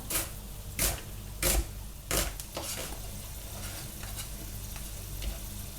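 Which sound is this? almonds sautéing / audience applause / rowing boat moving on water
almonds sautéing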